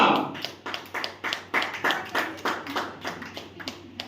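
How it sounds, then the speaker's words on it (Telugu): An audience at a church worship gathering claps loudly, in a steady run of about a dozen sharp, evenly spaced claps, with little else audible. "చప్పట్లు గట్టిగా"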